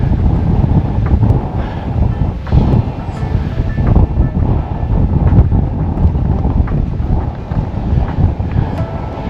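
Strong wind buffets the microphone continuously while someone walks uphill outdoors, a loud, steady low roar with gusty swells and no speech.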